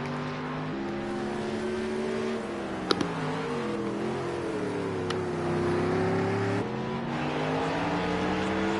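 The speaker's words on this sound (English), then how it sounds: "Some lovely engine sounds from the Mercedes-Benz AMG GT." Mercedes-Benz AMG GT GT3 race car engine in a racing video game qualifying session, a loud steady drone with rising and falling harmonics as it accelerates and shifts gears, with brief sharp clicks mid-run and no talk.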